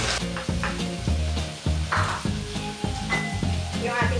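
Carrots go into a hot pan with chicken for pancit puti, bringing a steady loud sizzle and frying hiss broken by regular scraping stirs of the spatula.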